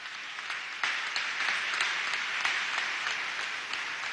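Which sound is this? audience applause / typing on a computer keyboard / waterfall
audience applause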